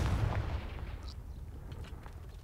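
A deep, rumbling fire-spell explosion, Confringo in Hogwarts Legacy, booms loudly at the start and then decays into a long, fading low roar with no talk.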